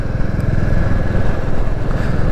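A Royal Enfield Classic 350 motorcycle engine runs loud and close on country lanes in Cornwall, a rough, throbbing mechanical drone that holds steady throughout with no voices.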